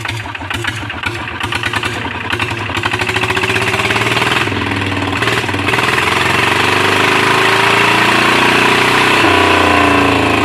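A small engine bored to 140 idles steadily and loudly up close, a rapid chugging throb with a slight pitch shift partway through, no voices.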